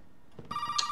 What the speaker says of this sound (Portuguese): Nossa, de novo o telefone.